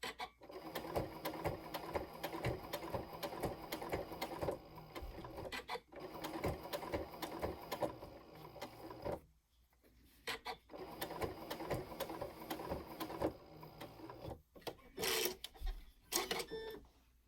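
A sewing machine stitches quilt binding in long steady runs, its rapid mechanical chatter pausing briefly between passes, with a short quiet gap midway and a few knocks near the end.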